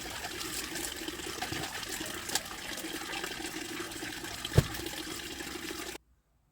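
Tap water runs steadily while things are washed at a sink, a soft continuous wash of splashing with one or two brief knocks, fairly quiet, and it stops abruptly at the end.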